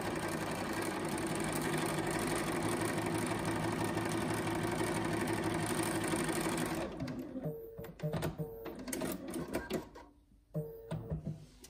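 Sewing machine steadily stitching quilt blocks with a quarter-inch seam for a curved-piece quilt, a dense continuous mechanical whir for about seven seconds, then stopping into sparse clicks and handling noises.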